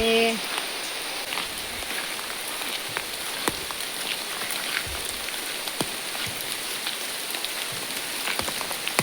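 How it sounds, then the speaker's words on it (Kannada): Steady rain patters on surfaces nearby, with scattered louder drops tapping through a constant wash of noise. "ಮಳೆ ಮಳೆ ಮಳೆ."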